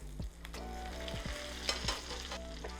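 A tilapia fillet frying in a pan with lemon juice, a loud close sizzle and crackle with a few scraping clinks from the pan, no voices.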